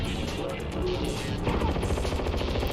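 Rapid, dense bursts of gunfire ring out during the combat in the Hot Wheels: Extreme Racing video game, a continuous crackling rattle that runs for a few seconds without pause.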